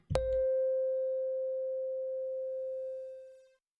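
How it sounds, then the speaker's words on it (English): A single Rhodes electric piano note from a sample on an SP-404 MKII sampler pad, struck once, its mellow tone ringing out alone and slowly fading over a few seconds. "And it's like a Rhodes piano, and it just plays and then just fades out nicely."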